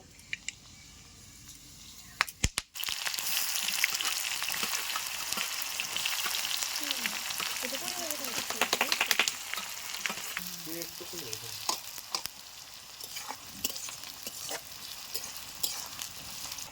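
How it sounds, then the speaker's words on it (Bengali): Onions frying in a pan for a spiced mutton curry are stirred with a utensil. A quiet start jumps into a loud, crackling sizzle, with scraping and clicking from the stirring repeating close by. "পেঁয়াজটা আমার ভাজা হয়ে গেছে"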